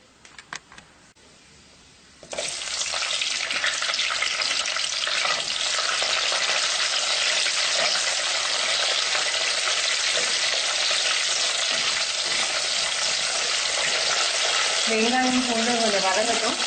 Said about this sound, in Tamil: வெங்காயம் பூண்டு கொஞ்சம் வதங்கட்டும்.